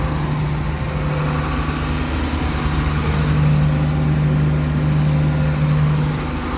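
A John Deere 6620 sidehill combine engine runs steadily at a constant throttle, a close, even mechanical drone with a low hum and no pauses.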